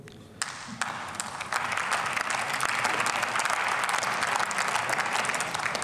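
Members of the German Bundestag break into applause during a debate on thirty years of German unity, the clapping starting sparsely after a moment of quiet and swelling into steady, full applause in the chamber.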